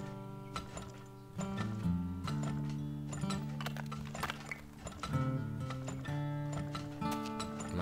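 Horses galloping in the video game Turmoil, a steady clip-clop of hooves running over a continuous bed of game music, with no talk over it.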